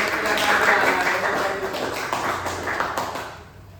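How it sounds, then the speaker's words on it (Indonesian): Students in a classroom applaud their classmates, a loud, steady patter of many hands clapping together that gradually fades toward the end, with some voices underneath. "Tepuk tangan dong buat teman-teman"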